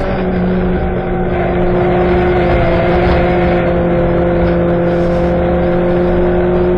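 A 750MC Stock Hatch race car at Silverstone drives flat out, its engine holding a loud, steady droning whine close up throughout with no gaps.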